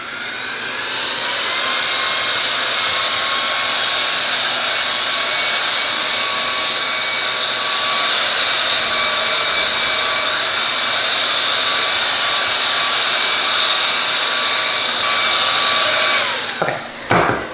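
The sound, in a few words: hair dryer drying hair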